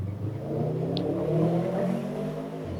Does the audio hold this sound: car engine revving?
yes